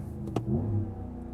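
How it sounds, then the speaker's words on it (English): Brief burst of a 2026 Ram 1500 Warlock HEMI V8 engine revving while in park, a short rising surge heard from inside the truck against a steady low rumble, with no talk. "I want to rev it in neutral and park."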